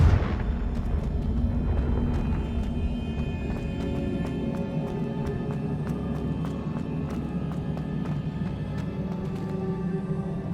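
Confringo blasting spell from Hogwarts Legacy on Nintendo Switch, a loud rumbling explosion burst at the start that decays into a sustained low roar with scattered crackling impacts, no voices.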